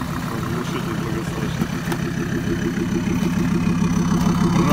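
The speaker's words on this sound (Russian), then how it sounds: "моторчик тихусенький, идеально работает" A quiet, warmed-up engine of a snow vehicle idles smoothly and steadily up close, a low even hum with no talk over it.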